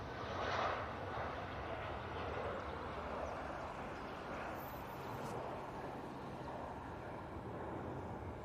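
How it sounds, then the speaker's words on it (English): A jet airliner departing Manchester Airport roars as a steady, fairly faint broadband rumble from a distance that holds without a break, and no one talks. "Nigel's finally been given permission, well, clearance to depart back to Heathrow."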